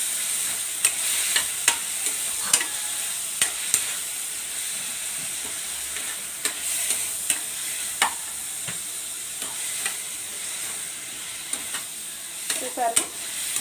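Egg and prawn curry sizzles in a pan while a utensil scrapes and taps it now and then, a constant loud hiss of frying punctuated by sharp stirring clicks.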